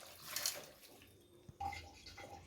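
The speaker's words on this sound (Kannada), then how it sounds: "ಇದನ್ನು ಬೇಯೋದಕ್ಕೆ 1 ಲೋಟ ನೀರು ಹಾಕ್ಕೊತಾ ಇದ್ದೀನಿ" A glass of water is poured into a pressure cooker, giving a quiet splashing pour, then a brief clunk and a second short trickle in a hushed kitchen.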